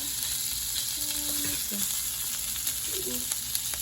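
Peppers and onions frying on a griddle for cheesesteaks, a steady close sizzle with faint scraping and clinks, no talking.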